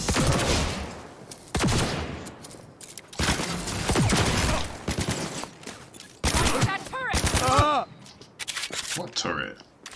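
Gunfire aimed at a turret in the video game Cyberpunk 2077, with several loud bursts of shots separated by short gaps. Game sound effects ring out between the volleys.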